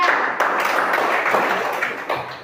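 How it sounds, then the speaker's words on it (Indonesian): Classroom of students clapping for a presenting group, a steady dense patter of many hands, moderately loud and close, easing slightly toward the end. "Ya, tepuk tangan dulu untuk kelompok 3."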